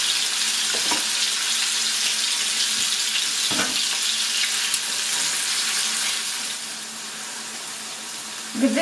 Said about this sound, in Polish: Wrzucamy boczek na rozgrzany tłuszcz